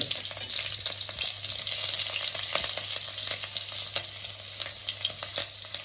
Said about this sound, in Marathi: त्याच्यानंतर आपल्याला ही हिरवी मिरची टाकायची आहे आणि हिंग